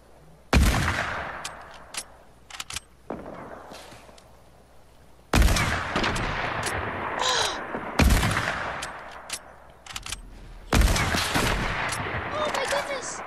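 Loud bursts of automatic gunfire from a video game come in several clustered volleys, with ringing decays and scattered in-game effects between them.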